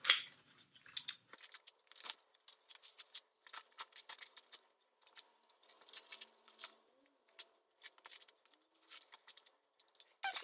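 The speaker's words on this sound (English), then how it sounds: "my next step is to cut all of this extra tissue paper" Scissors snip through thin, excess tissue paper around a stained glass window, giving a quick run of crisp, crinkly cuts in short bursts with brief pauses, close and fairly quiet.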